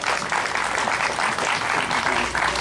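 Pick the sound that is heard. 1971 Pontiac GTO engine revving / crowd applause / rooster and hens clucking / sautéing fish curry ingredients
crowd applause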